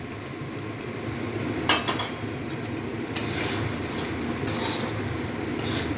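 Fried paneer goes into a pan of simmering gravy with a few clinks and scrapes of utensil on metal over a steady low bubbling hum, close by with no talk.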